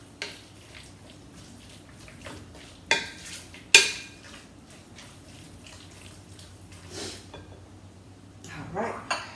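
Chicken is mixed by hand with a tenderizing marinade in a bowl for chicken fried rice. Soft, wet squelching and stirring is broken by a few sharp clinks against the dish, with a faint voice in the background.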